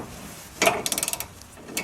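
A ratchet wrench and socket tightening a rear frame kit bolt, with a single clunk followed by a quick run of about eight evenly spaced ratcheting clicks, close and fairly quiet.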